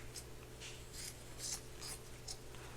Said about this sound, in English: So, first I'm going to cut the crotch area.